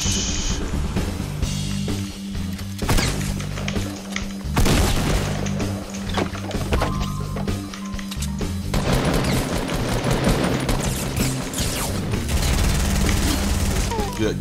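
Heavy assault rifle fire in Fortnite rattles in dense, loud bursts throughout, with booming impacts and crashes layered in and a player's voice talking over the chaotic fight.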